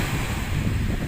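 Strong sea waves at a beach in Oriental Mindoro, a dense continuous roar of surf mixed with wind buffeting the microphone, loud and steady throughout.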